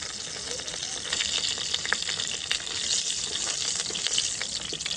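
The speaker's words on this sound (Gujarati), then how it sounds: "તો મરચાંને બળવા નથી દેવાના ખાલી તેલમાં ફ્રાય કરવાના છે" Mild green chillies frying in hot oil, for a pumpkin bhartha cooked on a traditional clay stove, give a steady, close crackling sizzle with spattering pops and occasional stirring, no voices over it.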